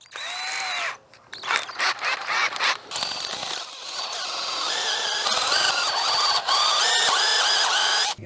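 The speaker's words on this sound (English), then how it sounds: "this bit, which has 4 sides that you can change when it gets dull, reams out the pipe" A power drill spins a four-sided reamer bit through CPVC pipe, a loud whining grind that starts, pauses briefly, then runs steadily and builds to a sustained high-pitched cut.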